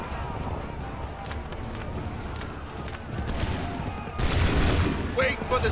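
Musket volleys from the Assassin's Creed 3 video game crack out as a fusillade amid a busy battlefield, the loudest burst erupting in the final seconds over running footsteps and shouted voices.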